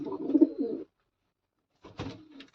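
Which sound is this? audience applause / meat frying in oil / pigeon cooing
pigeon cooing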